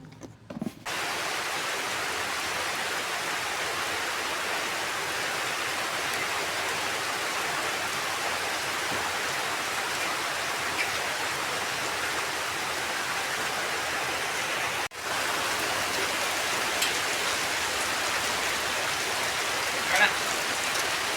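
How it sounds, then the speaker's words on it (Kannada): Steady rain pattering down, a dense continuous hiss of drops that holds even throughout, with a brief dip partway through. "ಹನಿಗಳೆಲ್ಲ ಬೀಳ್ತಾ ಇರೋದು ನೋಡಿದ್ರೆ ತುಂಬ ಚೆನ್ನಾಗಿ ಫೀಲ್ ಆಗ್ತಿತ್ತು"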